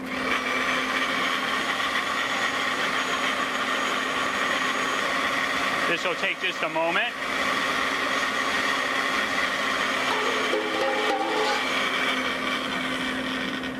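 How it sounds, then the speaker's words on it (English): Kitchen blender run on high while blending a bright green cilantro sauce, a steady loud motor whir that fills the clip, with a person speaking briefly over it. "Turn the blender on high."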